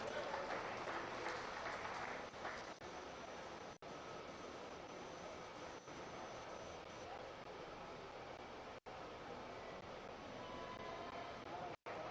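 The audience at a meat goat show applauds the exhibitors in a sustained, dense round of clapping that fills the hall for several seconds, even and continuous with a few brief dropouts.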